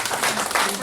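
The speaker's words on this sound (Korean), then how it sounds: "박수로 환영해 주세요" A crowd at a civic forum in Masan applauds with steady, dense clapping, loud and close, filling the short moment.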